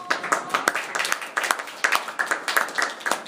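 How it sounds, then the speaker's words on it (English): A small group claps together at an informal prize handover, sharp claps in a loose, fairly steady rhythm heard close up for several seconds with no talking over them. "just hand over the prize and we'll all clap"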